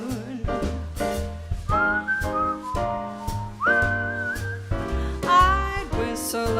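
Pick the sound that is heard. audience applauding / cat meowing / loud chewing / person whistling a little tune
person whistling a little tune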